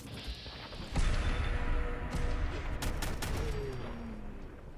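Heavy machine-gun fire from Dak's shoulder-mounted M2 in Fallout 4, starting abruptly after a second and continuing as a loud, dense sustained burst with crashing impacts mixed in.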